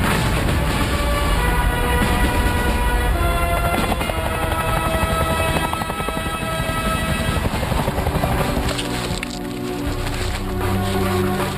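Helicopter rotor and engine noise from a combat mission game, loud and continuous throughout, with a steady thumping drone that eases slightly near the end.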